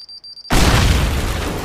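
Strong explosion in the physics game Teardown, where a faint tonal beeping cuts off into a sudden loud boom whose broad rumbling roar lingers and slowly fades.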